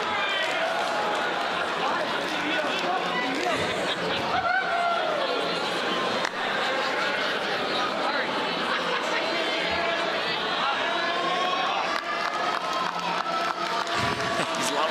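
Steady crowd chatter fills a Thursday night broadcast event, a busy indoor murmur of many voices that stays loud and even throughout, with occasional brief cheers and claps rising out of the hubbub.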